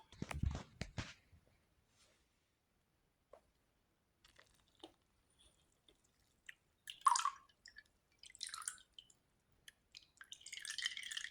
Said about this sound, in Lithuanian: mes naudosime sietelį, kad gėrimas galėtų prabėgti pro vandenį, kad išskirti atliekas nuo gėrimo